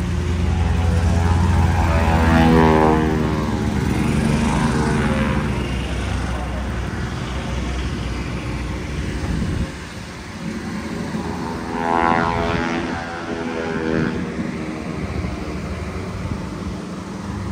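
A Tango Flight RV-12iS propeller airplane drones steadily at an airshow, loud and sustained, swelling and fading as it passes, with people talking underneath.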